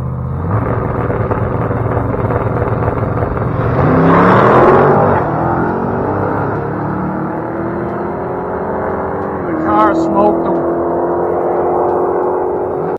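A drag racing truck at a dragstrip roaring loud and close as it accelerates, its engine pitch climbing through gear changes with a brief crackle near the end.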